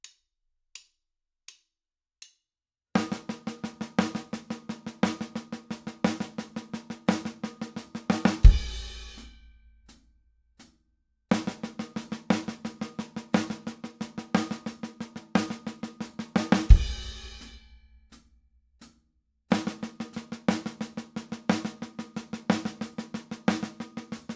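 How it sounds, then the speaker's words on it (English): Single accented paradiddle-diddle in steady 16th notes on a snare drum, played alone over two measures and repeated three times, each run ending with a short sustained ring. "if we were to play this as a single accented paradiddle-diddle over the course of 2 measures of"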